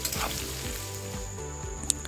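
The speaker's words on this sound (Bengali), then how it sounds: "এবার আমি আলুগুলোকে ভেজে নিচ্ছি।" Potato pieces frying in mustard oil with turmeric and salt for a chicken curry, a steady close sizzle with the scrape and clatter of stirring running under it.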